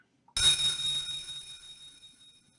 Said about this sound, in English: It's that bell.